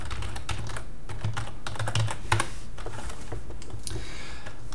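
Steady, fast typing on a computer keyboard while writing program code, a dense run of close key clicks with no talk over it.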